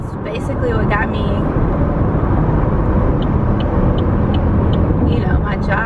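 A big truck rumbles past close by with a heavy, sustained roar and a brief hiss like an air brake, while a person talks over it.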